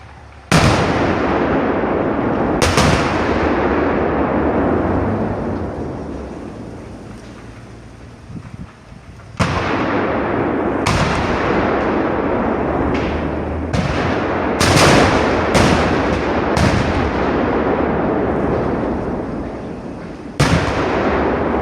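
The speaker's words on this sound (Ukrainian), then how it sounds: "після цього тривала детонація снарядів" A dense rolling roar of explosions with repeated sharp blasts and cracks, loud and continuous, as ammunition shells detonate one after another following a strike on a Shahed drone depot in Tatarstan.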